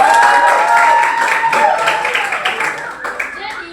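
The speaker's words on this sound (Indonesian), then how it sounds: "kasih tepuk tangan untuk Putri." Elementary school children clap together in a classroom after a student answers, a dense burst of applause that gradually thins out, with a teacher's voice audible over it.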